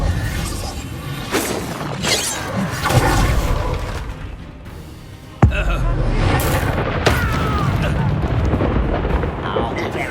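Blasting spells go off in the Hogwarts Legacy video game, with sharp shattering bursts, booming impacts and crackling debris over busy combat noise, and a loud hit near the middle; a voice calls out over the action.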